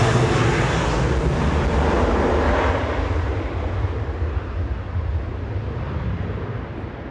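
A Boeing 737-800 jet departs Manchester Airport for Alicante, a loud broadband roar that slowly fades as it pulls away, with no talk.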